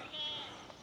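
A goat gives a brief, faint bleat on a morning walk in a Quezon City residential area, over low outdoor background noise.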